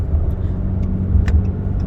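A 2021 Ram 3500 pickup with a stock tune drives onto a freeway, its engine a steady low drone with road rumble close inside the cab, loud and continuous with faint ticks and clicks on top.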